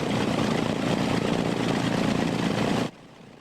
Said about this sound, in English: That's a B-25 bomber, and that smoke is normal with its radial engine.